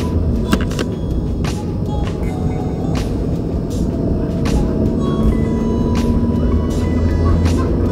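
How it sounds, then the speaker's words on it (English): A 2020 Toyota Vios 1.3 CVT driving in first gear under manual mode, with a steady engine and road drone inside the cabin and scattered clicks and ticks over the continuous rumble. "let's put it on manual mode also to check out the first gear"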